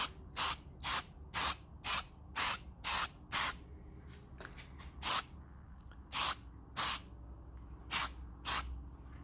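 A spray can of primer coats motorcycle engine covers in a series of about a dozen short, sharp hissing bursts, each separated by a brief pause, close and loud against a quiet background.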